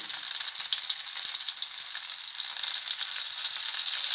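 Pieces of fish 65 fry slowly in a little oil, giving a bright, even, close sizzle that stays steady without stirring or voices.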